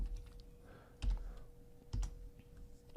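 Keys tapping on a computer keyboard during a Galactic Civilizations III session, with a couple of louder clacks standing out over a soft room hum, no talking.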